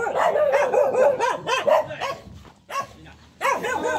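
A fierce dog barks rapidly in close bursts of sharp, repeated barks with a brief pause before resuming, loud and alone.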